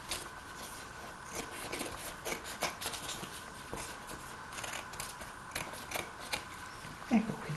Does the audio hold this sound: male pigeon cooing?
no